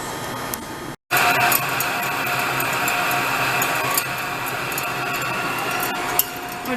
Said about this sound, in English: welder's getting it done